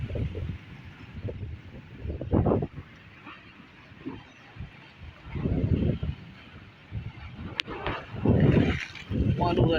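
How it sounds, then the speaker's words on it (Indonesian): Strong wind in extreme weather on a beach along the coast of Lampung, gusting buffets and rumbling microphone wind rising and falling in bursts, with people talking throughout. "Cuaca ekstrim, angin kencang."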